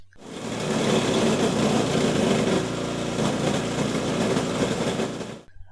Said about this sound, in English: One can run the bioshredder with the help of pulley and belt.